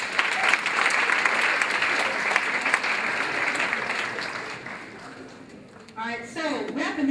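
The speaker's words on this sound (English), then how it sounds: "Give her a round of applause." Audience applause at a Black Girls Rock event at SIUE, a dense, steady wash of clapping that fades over several seconds before a voice begins speaking near the end.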